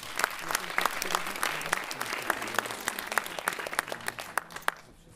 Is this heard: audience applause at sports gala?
yes